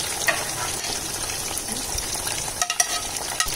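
Rice and egg fry together in a pan, a dense crackling sizzle broken by scraping and tossing strokes of a spatula, with a few sharper knocks toward the end.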